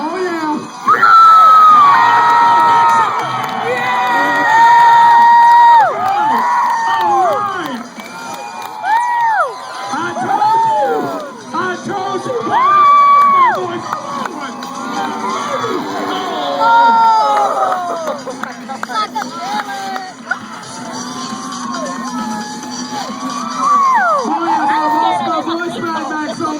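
A crowd at a motocross show at Myrtle Beach Speedway cheers, screams and shouts continuously, with children's high yells rising over loud, dense babble throughout, near and sustained.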